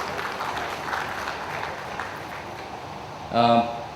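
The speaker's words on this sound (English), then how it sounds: "Let's give him a big round of applause, Viral" Seminar audience at the Goafest 2012 knowledge session: a broad wash of hands clapping fills most of the clip, fading gradually, before a brief loud voice cuts in at the end.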